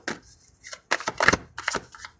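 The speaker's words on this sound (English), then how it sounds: "One more shuffle after this." Tarot cards being shuffled by hand, several quick riffling bursts of papery rustle broken by short pauses, close and fairly crisp.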